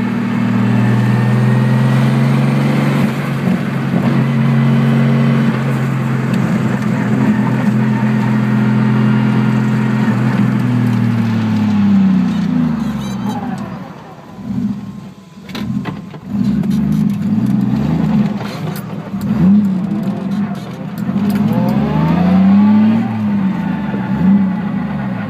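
Datsun Z car fitted with an RB30 engine, running rough: a loud, steady idle hum that surges and revs unevenly partway through, close up and without talk.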